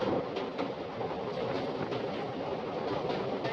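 A train rumbles steadily across the Pamban sea bridge to Rameswaram, with a dense, continuous roar and faint rhythmic clatter throughout, fairly close and unbroken.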